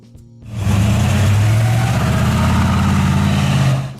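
A 1971 Pontiac GTO Judge with its 455 HO V8 engine rumbles loud and close, a deep steady idle with a slight rise in revs, running for several seconds before cutting off.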